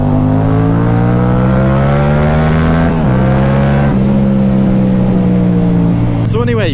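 Yamaha MT-07 motorcycle with a full Akrapovic exhaust: a loud, steady engine drone with deep rumbling harmonics, dipping briefly as the throttle shifts, then a sharp rev rising at the end.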